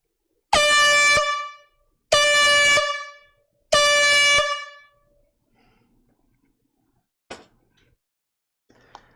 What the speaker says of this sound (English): That is an air horn.